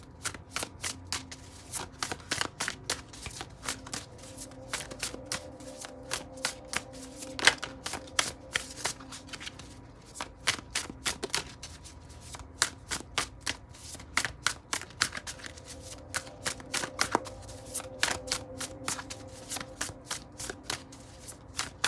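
Tarot cards being shuffled, a steady run of crisp riffling clicks and slaps repeating in bursts throughout, close and fairly quiet, with no talking.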